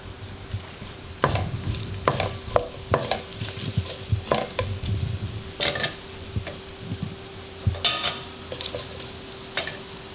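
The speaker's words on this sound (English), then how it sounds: "mix the meat or the beef until it is thoroughly browned on all sides" Beef browns in a hot pan for a wet fry, with a frequent clatter of a utensil stirring and scraping over a continuous sizzle, close and fairly loud.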